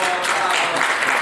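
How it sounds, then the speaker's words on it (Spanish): Audience applause at a talk on risk classification and analysis, a steady dense wash of clapping sustained throughout at moderate loudness with no pauses. "Eso merece un aplauso"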